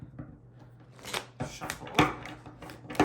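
Tarot cards are shuffled in a quick run of crisp, papery riffles and slaps, close and moderately loud, building in bursts toward the end.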